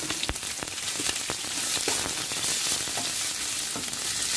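Chopped onions and green chillies sizzling in hot oil in a pan while cooking potato saagu, a steady close frying hiss broken by occasional sharp pops and crackles.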